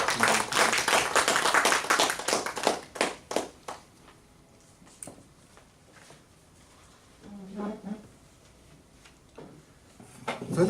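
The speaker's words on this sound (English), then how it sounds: "Big round of applause." Audience applause welcoming a speaker at a Toastmasters club meeting, clapping loud for the first few seconds and then thinning into scattered claps before fading, with brief murmurs afterward.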